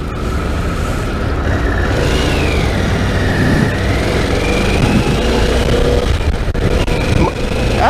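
A Harley-Davidson Pan America adventure motorcycle engine hums steadily while riding, mixed with loud, constant wind rush and road noise, with a gradually rising whine as the bike accelerates.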